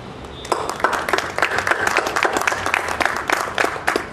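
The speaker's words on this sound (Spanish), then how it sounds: "Démosle un fuerte aplauso" An audience at an economics forum on Ecuador–Peru trade and tourism breaks into applause, a dense burst of many hands clapping that starts abruptly and holds steady for several seconds.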